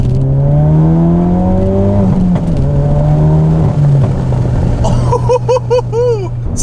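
A tuned Ford Focus RS with the EcoBoost engine, running about 450 bhp, revs loudly and close by, the tone climbing and falling through gear changes before rapid crackles and pops burst out at the end.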